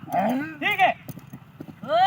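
A horse's hooves clip-clop during dance training in Punjab, faint and uneven beneath loud, drawn-out human voices calling over it.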